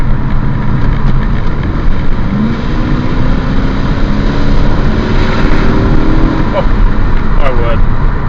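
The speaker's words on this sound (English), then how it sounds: "this car sounds so nice, I could drive this car just on the sound alone" The V8 engine of a 1997 BMW E39 535i roars steadily and loudly throughout, a deep continuous rumble with rising revs near the end.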